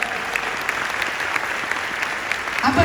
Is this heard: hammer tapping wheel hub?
no